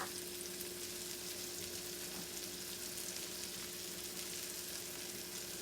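Chopped onions sizzling steadily in a pan for beef stroganoff, a continuous close frying hiss with a faint hum and no speech.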